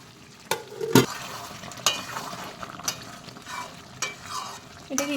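Chilli paneer being sautéed and stirred in a pan, with a steady sizzle broken by several sharp scraping stirs of the spatula, close and moderately loud, with no talking.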